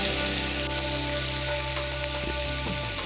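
Shallots fry in a pan for a mushroom sauce, a dense continuous sizzle like rain, with a couple of faint knocks and a steady low hum underneath.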